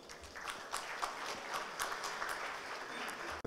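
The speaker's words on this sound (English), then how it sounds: "Please give them a round of applause." Audience applause at a sponsored event in St Kitts and Nevis: steady, dense clapping from a crowd, moderately distant and fairly quiet, holding evenly for a few seconds before cutting off.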